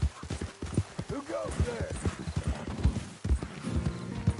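Horse hooves clip-clop in Red Dead Redemption 2, a close, uneven run of hoof strikes with a brief whinny, under intermittent male speech from the game's characters.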